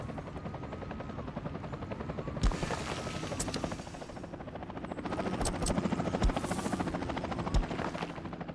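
A helicopter in the city-building game Workers and Resources gives off a steady, rapid rotor chop and engine whine at moderate distance, with a few sharp clicks over it.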